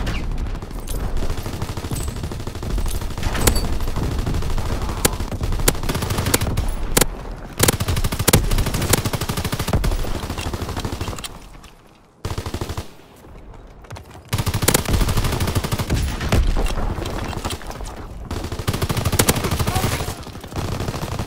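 Rapid automatic gunfire and rifle shots from a Call of Duty: WWII match, loud and dense bursts that drop out briefly near the middle before resuming, with little talk over them.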